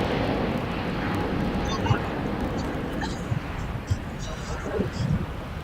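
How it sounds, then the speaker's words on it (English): A Qatar Airways jet takes off from the 25 runways at LAX, its engines a steady, broad roar that carries through the whole stretch, with gusts of wind buffeting the microphone. "The big Q taking off here on the 25s"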